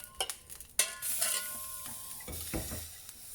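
Spoon stirring sautéed khichdi in a pan, with scraping and clinking strokes over a soft background sizzle, close and fairly quiet, no talking.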